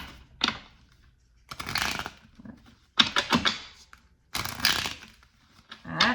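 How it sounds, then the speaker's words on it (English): Cards shuffled in several quick riffling bursts, each a crisp fluttering rush, separated by short pauses and light handling clicks. "Let's do one more shuffle."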